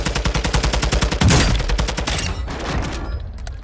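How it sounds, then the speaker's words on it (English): Automatic gunfire in a multiplayer shooter video game hammers out in a rapid, rhythmic burst, close and loud, then trails off into scattered shots. "Oh, he's shooting."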